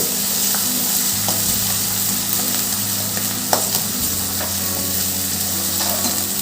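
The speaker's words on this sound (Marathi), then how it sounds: "टोमॅटो टाकते टोमॅटो परतून घेऊ आपण" Onion and tomato sauté in oil in a pan over low gas while ragi rava upma is made, giving a steady close sizzle and frying hiss with a few soft stirring scrapes and clinks throughout.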